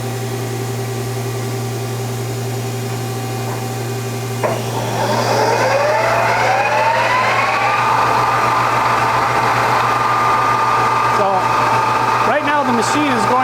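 A Mazatrol CNC lathe with a steady motor hum runs to its tool change position, with rising whining servo tones, loud and near, while someone talks over it.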